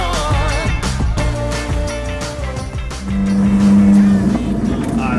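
A Koenigsegg Jesko supercar engine revs loudly and climbs in pitch, with music playing underneath the whole time.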